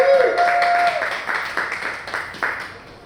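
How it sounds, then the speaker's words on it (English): An audience at the Louisiana Shrimp Fest 2025 gives a short round of applause, opening with a brief whistle-like tone before the patter of clapping fades steadily over a few seconds. "Everyone, a little round of applause for Skye."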